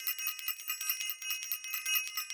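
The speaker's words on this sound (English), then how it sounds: "The other thing I want to do is ring the bell." A small bell rings in quick repeated strikes, giving a bright, high, shimmering tinkle that pulses steadily and stays faint, with no voices over it.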